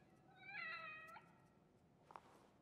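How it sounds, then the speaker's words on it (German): A kitten in the horror video game The Evil Within gives a single clear, fairly close meow, followed by a faint short sound, over a quiet background. "Weg, Kätzchen."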